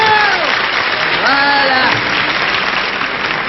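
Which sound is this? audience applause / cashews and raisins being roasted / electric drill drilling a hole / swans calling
audience applause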